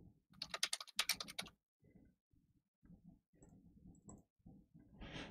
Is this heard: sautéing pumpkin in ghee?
no